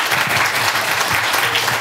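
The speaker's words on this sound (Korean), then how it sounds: "박수 한 번만 부탁드리겠습니다." A crowd at a political talk concert for a presidential candidate applauds loudly, a thick, sustained wash of clapping at a constant level with a faint low murmur beneath.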